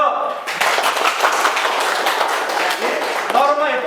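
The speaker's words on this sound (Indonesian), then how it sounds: "Tepuk tangan dulu." Classroom of students clapping together in a sustained burst of applause, dense and fairly close, with some voices mixed in toward the end.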